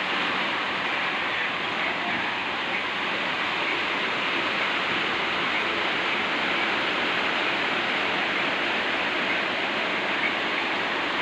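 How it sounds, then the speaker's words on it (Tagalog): Heavy rain pours down steadily during a typhoon, a dense and even rushing hiss that continues without a break. "kahit maulan ngayon, may bagyo"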